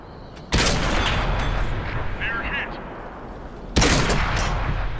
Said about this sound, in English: we're putting the shots in nicely here with some nice side-on targets